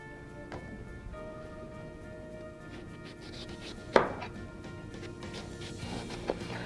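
Long kitchen knife cutting the rind off a honeydew melon, soft scraping and slicing strokes on a board with a couple of sharper knocks, fairly quiet and steady.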